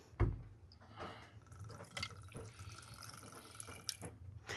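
Gin poured into a jigger for a Tom Collins, a soft liquid trickle running under a low room hum, with a sharp tap at the start and small clinks of the measure near the end.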